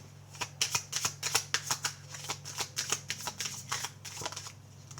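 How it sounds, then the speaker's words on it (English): Tarot cards being shuffled by hand, a rapid run of crisp riffling flutters that keeps going steadily over a low background hum, fairly close and moderately quiet. "Let's get one more card out here for you guys."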